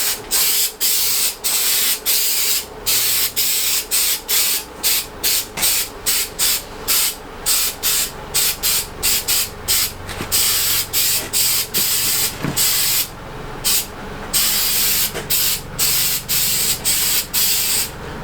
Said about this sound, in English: So we'll spray from a fair distance away to get a wide coverage